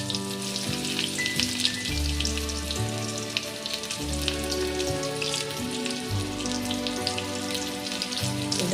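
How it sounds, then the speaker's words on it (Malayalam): Shallots and dried red chillies frying in hot coconut oil after mustard seeds have popped, a strong continuous sizzle with scattered crackles and pops, close up and steady throughout. "കടുക് പൊട്ടിയതിന് ശേഷം അതിലേക്ക് ചെറിയ ഉള്ളിയും വറ്റൽമുളകും ഇട്ട് കൊടുക്കാം."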